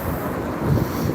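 Low rumbling wind buffeting a microphone, steady and muffled, with a slightly stronger gust near the end of the short stretch.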